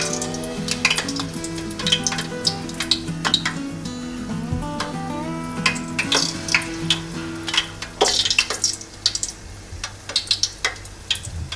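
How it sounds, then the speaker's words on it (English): Spoonfuls of Italian zeppole dough bubble in hot oil with a continuous sizzle broken by sharp crackles and pops, heard close up beneath steady background music and with no one speaking. "Mama's got the Zepele here in the nice hot oil"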